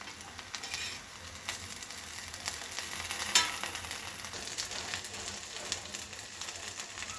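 Okra stir-frying in a pan for a Marathi bhendi bhaji, a steady close sizzle with crackling spatters and scraping stirs throughout, no voices.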